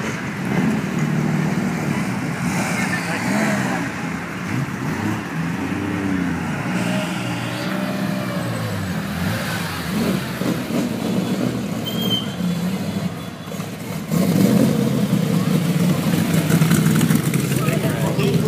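Classic race cars in a parade lap at Lime Rock, including MGB and MG roadsters and third-generation Corvettes, rumble and drone past under continuous commentary, with engine noise holding steady and swelling slightly near the end.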